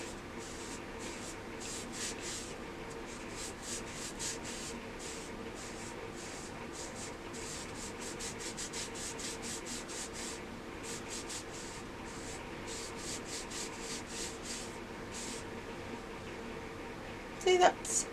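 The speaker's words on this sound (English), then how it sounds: "I've just put some on my finger just to rub it into my swatches and start removing" Makeup removing balm rubbed by finger into lipstick swatches on skin, a soft, steady close friction hiss running throughout with a couple of brief louder bumps near the end.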